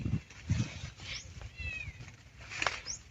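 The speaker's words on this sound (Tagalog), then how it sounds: "Nanganak yung pusa na yun." A cat at a farm meows several times, moderately close, over a murky outdoor background with faint low voices and rustling.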